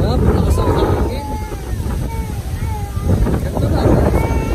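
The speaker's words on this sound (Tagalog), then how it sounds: "Lakas ang hangin." Strong wind at a beach in Batangas buffets the microphone in loud rumbling gusts that rise and ease, with people talking over it.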